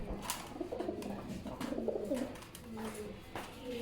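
Several domestic pigeons offered for sale as pairs coo in low, rolling phrases that recur across the stretch, fairly close, with some background noise and no clear talk.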